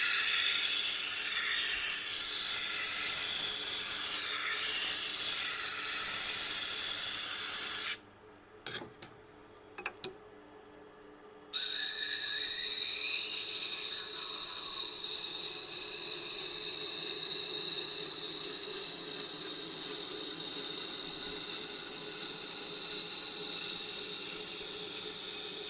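A knife blade is sharpened on a sharpening stone at about 30 degrees, starting on the rough side to fix a rough bevel: close, continuous rasping strokes that stop for a few seconds, then resume steadily.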